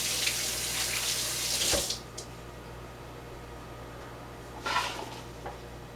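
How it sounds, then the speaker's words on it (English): Running tap water splashes over hands being rinsed in a kitchen sink, a loud steady gush for about two seconds, then quieter trickles with a second brief burst of flow near the end. "I'm gonna just rinse my hands quickly"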